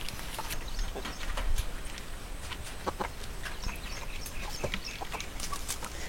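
Farmyard chickens clucking as they are let out of the coop in the morning, a scattered chorus of short clucks and calls over steady outdoor background noise, moderately distant.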